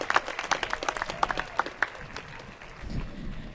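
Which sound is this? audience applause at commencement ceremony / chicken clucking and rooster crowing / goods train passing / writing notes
audience applause at commencement ceremony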